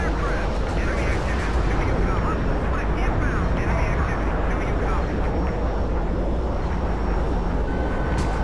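A bomber plane's engines drone in a video game, a dense, steady roar filling the scene, mixed with voices and other battlefield noise.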